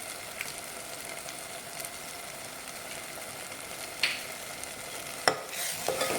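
Masala for an egg curry roasts in oil while a spoon stirs it, producing a continuous gentle frying sizzle with a few sharper scrapes and clicks from the spoon near the end.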